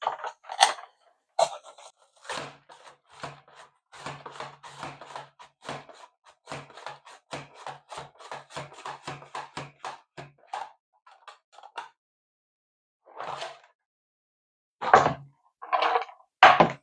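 Onion sliced on a Pampered Chef mandolin for homemade pizza, a long run of quick, rhythmic dry clicks and scrapes close up, followed by a short pause and a few louder bursts.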